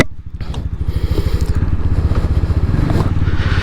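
A 2021 TVS Apache RTR 200 4V, a 200cc motorcycle, rides along with a steady, throbbing engine rumble and pulsing exhaust beats, loud and close, accompanied by wind and road noise.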